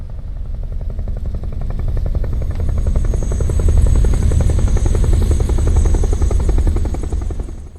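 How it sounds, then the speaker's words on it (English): Helicopter rotors in Metal Gear Solid 3 Delta Snake Eater, a loud, steady, rapid chopping throb close by that swells in the middle and eases slightly at the end. "the one thing that's way better I find is the rotor sounds of the helicopters"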